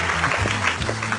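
Applause greets a world-famous director arriving on set, a short burst of clapping from a small group, close and lively, with no one talking over it.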